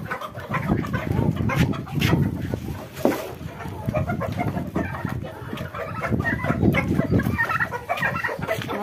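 Free-range chickens and a rooster cluck and chatter continuously on a rooftop coop among ducks and turkeys, a busy close flock of overlapping calls.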